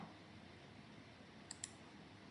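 Two faint, quick mouse clicks in close succession over a quiet background hum.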